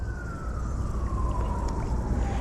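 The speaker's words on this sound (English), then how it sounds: "this is like the first time I've heard the sirens when we fish" An emergency vehicle siren wails in the distance while fishing near a city, a single slowly falling tone over steady low outdoor rumble with no talking.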